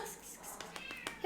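A female cat meows repeatedly in short calls at close range, with soft background voices and household noise around her.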